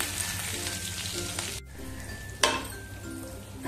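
Ground coriander, cumin, fennel and pepper sizzle in hot oil in a pan for moong dal kachori filling, a close, steady frying hiss with a brief dip and a sharp utensil clink partway through.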